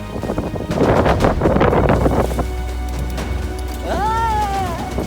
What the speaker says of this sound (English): We've got a good 20 knots of breeze and we're close hauled into the wind.